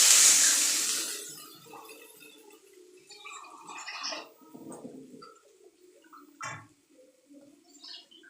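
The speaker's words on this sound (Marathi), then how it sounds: "मी आता हे पाणी याच्यात टाकून देते" Water pours into a cooking pan in a loud splashing rush for about a second, then tapers off into faint trickles, clinks and scattered small sounds.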